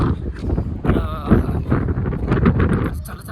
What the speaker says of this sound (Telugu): చాలా గాలి వస్తుంది బాగా